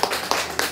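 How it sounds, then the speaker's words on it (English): A few scattered claps at a school graduation ceremony, thin and sparse, with three distinct bursts of hand-clapping in under a second, fairly quiet and a little distant. "Give him a big round of applause."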